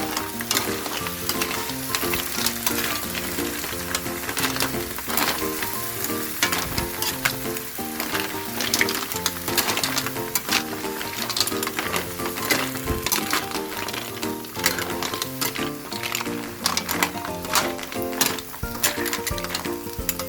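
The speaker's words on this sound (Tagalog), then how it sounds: "Nakalagay na ang tahong. haluhin." Mussels sizzle steadily in a hot pan while being stirred, a continuous loud frying hiss with frequent scraping clicks over about twenty seconds, with no one talking.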